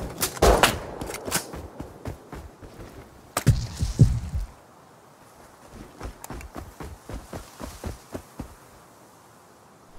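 Video-game gunfire: sharp bursts of loud shots early on, then a quieter run of rapid, evenly spaced reports, with no speech over them.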